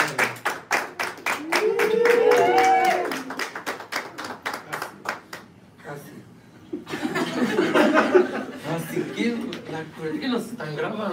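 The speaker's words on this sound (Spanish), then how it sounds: "Reciban un fuerte aplauso de los presentes" Applause from guests at a civil wedding ceremony, a steady burst of close, rapid hand claps for the newlyweds lasting several seconds, with a little laughter mixed in, then quieter murmuring and renewed clapping and crowd noise.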